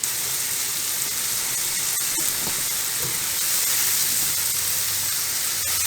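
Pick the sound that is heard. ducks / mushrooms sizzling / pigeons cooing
mushrooms sizzling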